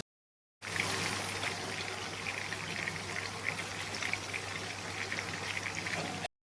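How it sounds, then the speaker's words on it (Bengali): Mrigal fish pieces frying in hot oil, a dense continuous bubbling sizzle that starts abruptly and runs evenly for several seconds before cutting off, close and fairly loud, with no talking. "সেই মাছগুলো একটু ভালো করে ভেজে নেব"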